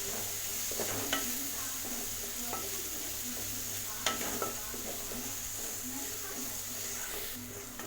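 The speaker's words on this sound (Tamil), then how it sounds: "கொஞ்சம் கொத்தமல்லி, கொஞ்சம் புதினா இது இதோட போட்டு நல்லா வதக்கிக்கலாம்" Coriander and mint leaves sautéing in a pan with green chillies, a steady sizzle under occasional stirring taps, with faint speech in the background.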